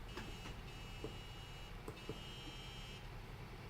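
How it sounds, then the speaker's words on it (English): A few light electronic beeps, faint and brief, sound over a quiet low background hum. "I heard a couple of very light beeps on that."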